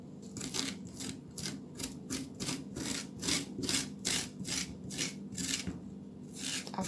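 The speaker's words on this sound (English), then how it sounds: "Actually scrapes easier from the bottom to the top where the vine is attached." Rhythmic scraping of skin off a pumpkin, a steady series of rasping strokes at close range, evenly paced with no talking over it.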